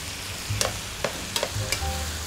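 Sofrito of onion, tomato, carrot and a little pepper cooks in oil in a home kitchen, a low sizzle broken by a few sharp clicks and scrapes of stirring.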